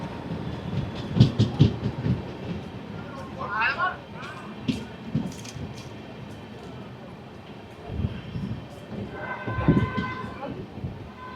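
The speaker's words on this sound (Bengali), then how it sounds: "22387 ব্ল্যাক ডায়মন্ড এক্সপ্রেস 4 নম্বর প্ল্যাটফর্মে ঢুকছে।" Black Diamond Express with LHB coaches rolling into platform 4 of a station, low rumbling wheels and intermittent clacks with brief squeals, people talking over the din of the platform.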